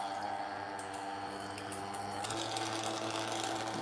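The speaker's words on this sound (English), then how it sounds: "let's turn on the vacuum system real quick" A vacuum pump runs steadily throughout, a continuous mechanical drone with a constant hum and whirring texture, loud and close, while preparing a smoothie with hydrogen water, with no voices over it.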